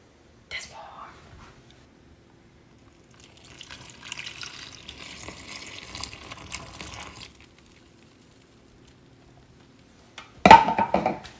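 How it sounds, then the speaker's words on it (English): Warm water pours steadily into a bowl of flour for a few seconds, fairly quiet, with a brief clatter before and a sharp knock after. "We're gonna put in our 3 cups of warm water."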